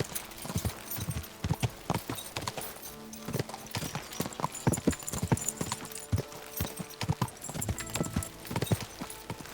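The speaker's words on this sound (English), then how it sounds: "Feels really unusual to just ride a different horse" Hooves clip-clop in a brisk, regular rhythm as a horse is ridden in Kingdom Come: Deliverance II, the hoofbeats close and distinct over a light ambient background.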